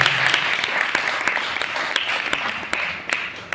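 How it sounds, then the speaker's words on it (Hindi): An audience at a Hindi religious discourse bursts into vigorous applause, a thick continuous roar of clapping with sharp individual claps standing out, gradually easing toward the end. "बात सही है तो एक बार जोरदार तालियां बजाओ।"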